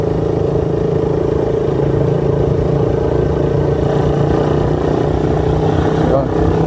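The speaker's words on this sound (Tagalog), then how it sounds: "Meron tayong nasaunahan motor." A motorcycle rides on a highway ahead at night in Taytay, Rizal, heard as a steady mid-pitched engine drone under continuous road noise from a moving vehicle, with people talking over it.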